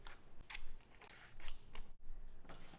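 Scissors snip repeatedly through paper edges for a junk journal, a quick series of close, quiet crisp cuts with short pauses between them.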